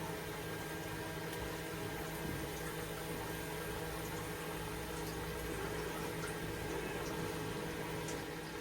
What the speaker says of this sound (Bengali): আমি ডুবো তেলে এটা ভাজবো